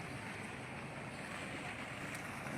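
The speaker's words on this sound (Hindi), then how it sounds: "वाहन यहाँ से निकलते हुए" Water washes and churns steadily as a vehicle drives through floodwater on a flooded road in Rajasthan, a continuous broad rushing with no breaks and no voices.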